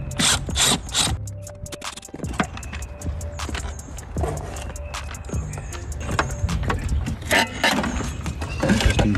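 A ratchet clicks in quick bursts, backing out four Phillips head screws near the ECU of a BMW E36 M3, with sharp close ratcheting and light metallic clatter throughout.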